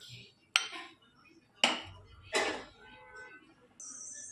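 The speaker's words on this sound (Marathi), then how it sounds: "मी कुकरचं झाकण लावून घेतलंय" A metal pressure cooker lid is fitted and closed while mixed vegetable pulao is cooked: three sharp, close clanks spaced about a second apart, with quiet pauses between them.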